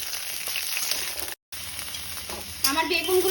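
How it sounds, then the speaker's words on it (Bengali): Eggplant pieces fry in hot mustard oil in a wok with a steady close sizzle, broken by a brief gap before the frying grows louder and crackles more near the end. "আমি কড়াইতে কিছুটা সর্ষের তেল গরম করে বেগুনগুলো একটু ভেজে তুলে নেব"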